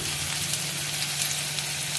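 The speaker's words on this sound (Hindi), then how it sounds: "देखिए बस प्याज जो है सौटे हो गई है ज़ीरे के साथ ही।" Onion with whole cumin seeds sautéing in hot oil, giving a steady, close sizzle and crackle that runs evenly throughout with no voices.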